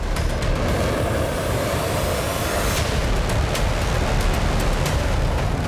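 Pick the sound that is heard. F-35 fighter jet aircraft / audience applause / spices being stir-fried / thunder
F-35 fighter jet aircraft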